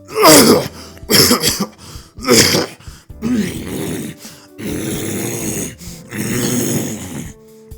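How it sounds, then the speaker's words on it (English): A voice in the game Tsukihime makes a series of rough throat-clearing coughs and gruff groans, loud and close, in several separate bursts with short pauses between. "Coughing to clear my throat, I take a seat."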